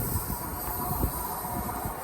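Train arriving at a station in Charlotte, North Carolina, a steady close rumble of rail cars with faint wheel and brake hiss running through the short stretch, no voices.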